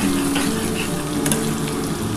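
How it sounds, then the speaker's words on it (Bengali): Spiced water poured into frying masala in a pan while cooking a Bengali heron fish curry, a loud steady sizzle with bubbling and liquid hiss, continuous and close, no voices. "এবার যে মশলার জলটা আছে সেই জলটা দিয়ে দেবো"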